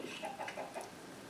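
Chickens in the video game Minecraft cluck in a few short, close, soft bursts over a quiet background.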